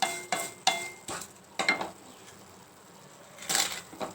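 Pepper, fenugreek and other spices dry-roast together in a pan, giving a few sharp spatula scrapes and clinks against the metal with a faint crackle between them, quiet and close.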